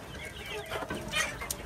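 Chickens on a hot farm, among them a large red hen, clucking in soft, irregular bursts over steady background noise. Close and moderately loud, with no voice.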